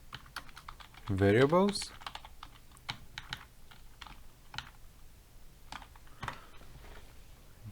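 A project name is typed on a computer keyboard while setting up a console app in Visual Studio. A single spoken word comes first, followed by a light, irregular run of close key clicks.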